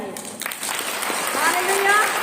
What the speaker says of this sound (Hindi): चलो ताली बजाएंगे।